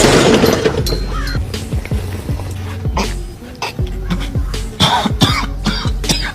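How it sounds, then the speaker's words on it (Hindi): A man coughing repeatedly after cigarette smoke goes up his nose, a run of harsh, close coughs and throat clearing with some background noise. "इसने जैसे ही सिगरेट पीने की कोशिश की तो धुआं इसके नाक में चढ़ गया और इसे खांसी आना स्टार्ट हो गई"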